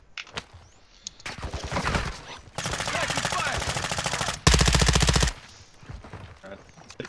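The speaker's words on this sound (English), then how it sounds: "I'm getting sniped at." Gunfire in Call of Duty DMZ on Vondel: several loud bursts of rapid repeated shots, one long stretch and a harsher, heavier burst after it, with quieter scattered noises before and after.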